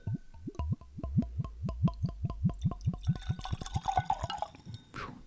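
Compass Box The Peat Monster scotch is poured from a nearly full bottle, a rapid run of rhythmic glugs that rises in pitch as the glass fills, then a faint clink at the end.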